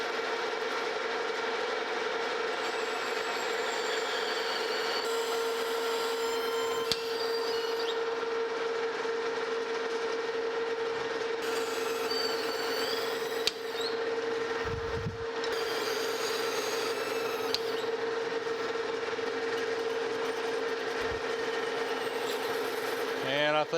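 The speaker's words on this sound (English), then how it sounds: "Got my long drill bit in now." A long drill bit grinds steadily through a steam locomotive try-cock part with a continuous motor whine, its pitch shifting slightly over time, with a few brief knocks along the way.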